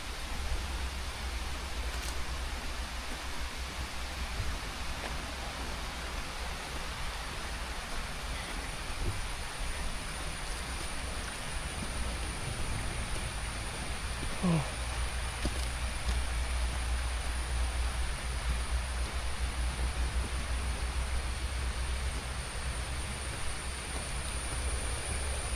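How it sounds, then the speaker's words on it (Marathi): Steady, even rain hiss fills a forest near Karnala Fort as a shower begins, with a low background rumble and no voices. "ओके, पावसाला सुरुवात झालेली आहे फायनली."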